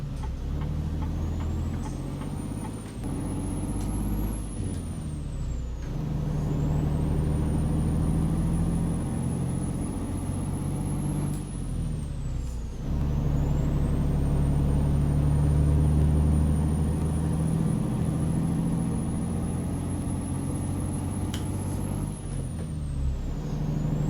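A Western Star 6900 truck pulls away in the game American Truck Simulator, a steady low diesel drone rising in pitch through repeated gear shifts, with short hisses between them, no talking.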